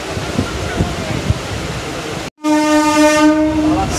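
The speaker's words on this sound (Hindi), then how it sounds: "देखो ट्रेन खुल चुका है" Local train on the Sealdah–Bangaon line near Bidhannagar station, Kolkata, heard from inside a carriage as it departs: rolling rumble and clatter, then a brief dropout and a loud sustained horn blast.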